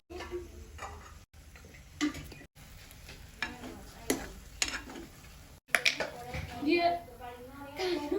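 Tempering sizzles in a pan while cooking a mater roll snack, with light crackles and stirring clicks scattered through, fairly faint, under steady talk in Gujarati.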